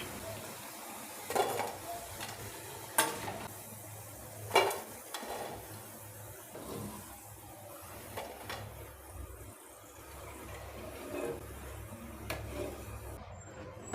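Palak spinach pakodas fry in oil with a soft, steady sizzle, broken by repeated scraping and stirring knocks of a ladle in the pan, close and fairly quiet.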